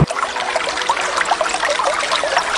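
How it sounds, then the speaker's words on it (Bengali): Cartoon sound effect of a river filling with water as rain falls in a Bangla children's cartoon story: a steady, fairly loud stream of trickling, bubbling water that runs throughout with no voices. "নদী ভরে গেল পানিতে,"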